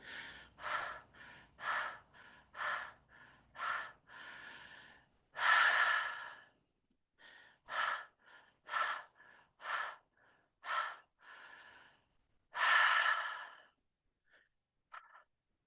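Rhythmic connected breathing in a guided exercise, a close series of quick, even breaths broken by two long, heavy exhales, quiet and near, with a few faint small sounds at the end.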